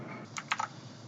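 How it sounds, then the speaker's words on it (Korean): A few quick keypresses on a computer keyboard, a Ctrl+R shortcut tapped as three close clicks in a quiet room. "컨트롤 R 키, R을 누르면 실행이 되거든요."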